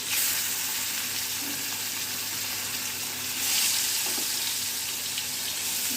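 Fish pieces fry in hot oil with a loud, continuous hissing sizzle that swells slightly midway and carries on steadily without any voices.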